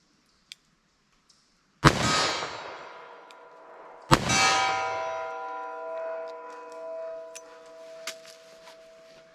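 Two .38 Special shots, likely Federal Hydra-Shok Deep +P rounds, fired at a target aimed for headshots. Each sharp crack is followed by a long, bright metallic ring, about two seconds apart, with faint clicks between.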